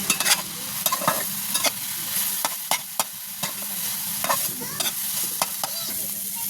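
A spatula stirs a taro fritter mixture in a hot pan, making repeated sharp scrapes every second or so over a low, steady sizzle, close and fairly loud with no talking.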